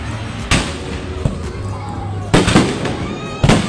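Several loud firework bursts boom at intervals at a display at Mall of Asia, Pasay City, Philippines, with crackling tails and a steady hum and distant crowd noise between the blasts.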